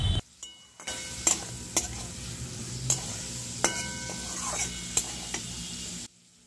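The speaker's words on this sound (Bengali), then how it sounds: "মশলাটা ভালো করে কষানো হবে" Spice masala for boiled egg curry sautéing in a pan with a little water and a pinch of sugar, a steady close sizzle broken by repeated sharp spoon scrapes and clinks against the pan, no talking.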